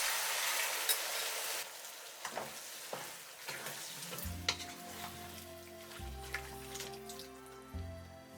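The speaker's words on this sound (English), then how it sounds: "Stir together and add the vegetables, the carrots, the potatoes, the mini peppers," Carrots, potatoes and mini peppers are stirred into a hot pot for peanut butter chicken mafé, a sizzle giving way to scraping stirs and a few soft clatters, close and alone.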